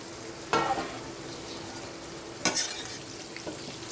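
Potato slices fry in a pan with a soft steady sizzle, broken by a few sharp scrapes and clatters of stirring; no voices.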